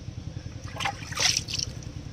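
Onion greens being washed by hand in pond water at a bathing ghat, a short soft trickle and slosh of water with a brief splashy burst in the middle.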